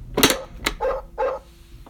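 Electronic dog bark from a Bach Peekaboo Farm baby toy, a few short sharp yaps close and loud, alone without talk.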